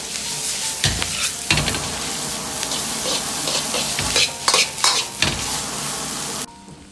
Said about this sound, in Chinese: 炒匀后下入控干油的鱿鱼丝，